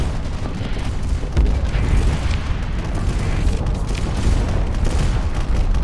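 Booming spaceship explosions from the space combat game Starsector roll on continuously for several seconds, a loud, dense low rumble with crackling bursts and no clear gaps.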